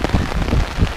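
Heavy rain falling in a castle park in Wezembeek-Oppem, Belgium, a close, loud patter and splash of drops with uneven surges, steady throughout and with no voices.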